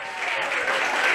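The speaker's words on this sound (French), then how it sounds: "on applaudit" A live show audience breaks into loud, dense applause and cheering at close range, sustained evenly through the whole moment.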